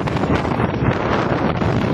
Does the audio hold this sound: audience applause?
no